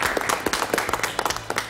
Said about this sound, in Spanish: Un aplauso para estos hinchas, que son hinchas de paz en el estadio